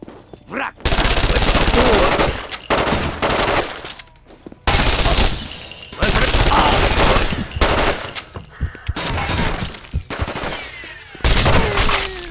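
Assault rifle fire in the shooter game Terrorist Takedown 2, loud sustained automatic bursts in several long runs separated by short gaps, with someone talking in between.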